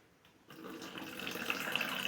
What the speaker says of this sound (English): I'll add some water to it